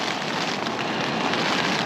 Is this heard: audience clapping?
no